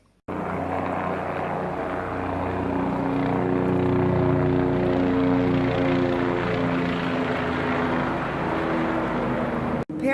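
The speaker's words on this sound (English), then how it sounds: "now they've got a helicopter out looking for him" A helicopter drones steadily overhead, its rotor thumping loud and constant before cutting off abruptly at the end.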